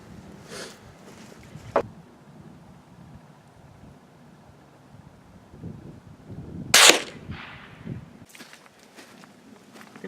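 Two sharp gunshots ring out during ballistic testing, the first near two seconds and a louder, nearer crack near seven seconds, with faint rustling and outdoor ambience in between.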